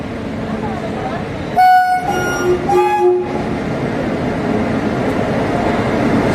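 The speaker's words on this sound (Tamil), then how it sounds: "பின்னாடி ஒரு ட்ரெயின் புறப்படுச்சு," A train pulling out behind the listener at Tiruchirappalli Junction, sounding a loud, close horn in two sustained blasts over the rumble of rolling rail cars, with some voices in the background.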